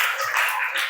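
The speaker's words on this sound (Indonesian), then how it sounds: "Tepuk tangan dulu." Group clapping for the first group in a classroom presentation, a steady dense patter lasting about a second, fairly close and loud, with no voices over it.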